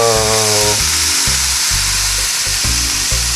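Onions and mushrooms frying over high heat, a loud close sizzle broken by repeated buzzing, stirring-like pulses in a choppy rhythm.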